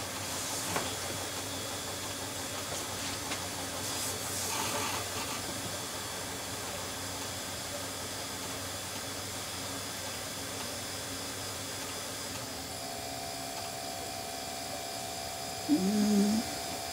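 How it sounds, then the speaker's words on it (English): Failing hard drive spinning inside a late-1990s Compaq Deskpro computer: a faint, steady electric whine with thin tonal hum and hiss that drones on throughout, with a brief bump of noise near the end. "that drive didn't sound very healthy"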